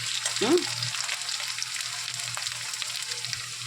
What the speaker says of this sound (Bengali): দেখুন পেঁয়াজ আর আলুটা ভালো করে ভাজা করে কষিয়ে নিলাম। এবার দেখুন আমি রসুন বাটা দিলাম